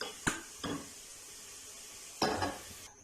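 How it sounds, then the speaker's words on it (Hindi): Fried onions lifted out of hot oil for a Mughlai mutton curry, faint sizzling beneath a few distinct metallic clinks and scrapes of a utensil against the pan. "अब हम जो है वो इस प्याज को ऑयल में से बाहर निकाल लेंगे"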